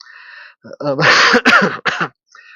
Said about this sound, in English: I'm coughing in your ear.